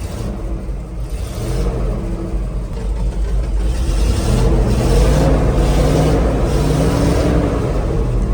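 A ZIL truck engine idles and runs steadily up close, a loud continuous rumble with slight rises in revs and no voices.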